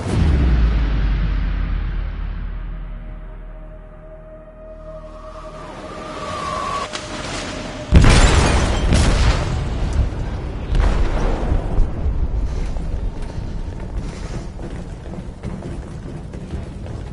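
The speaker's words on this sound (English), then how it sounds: "They detonated an explosive in the hold." Explosive detonated in a ship's hold in a video game: a sudden heavy boom after a fading rumble, followed by rolling blasts, crashes and debris noise, loud and close without speech.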